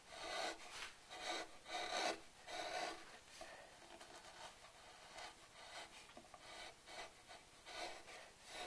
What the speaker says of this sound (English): I'm just going to round over just the outside edge.